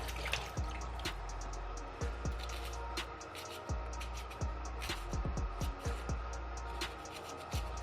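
An onion washed under running water at a kitchen sink: a steady flow of water with irregular drips, splashes and squishy handling sounds, close and moderately quiet.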